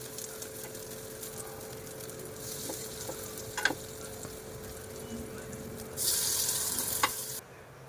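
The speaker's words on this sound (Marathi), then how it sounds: "आता इथं थोडं थोडं करून आपल्याला याच्यामध्ये बॅटर टाकून द्यायचं आहे" Pea-based appe batter sizzling in an oiled appe pan with sesame, a steady soft frying hiss with occasional clicks, then a louder rushing burst near the end before it drops away.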